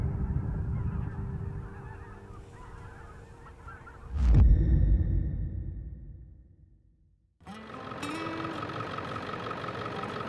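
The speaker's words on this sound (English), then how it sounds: "Wow, that's a lot of birds" A large flock of geese honks in a steady distant clamor during a hunt, with a louder burst of calls partway through that fades before the honking resumes nearby.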